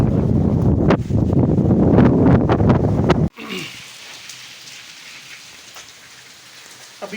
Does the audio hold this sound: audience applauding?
no